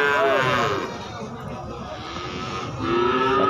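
At a cattle market, a cow lets out long, drawn-out moos near the start and again at the end, with a low murmur of people and market noise underneath.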